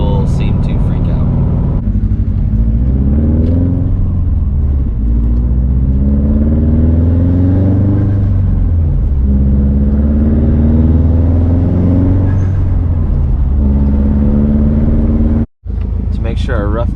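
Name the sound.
Subaru WRX STi with Tomei straight pipe exhaust, city driving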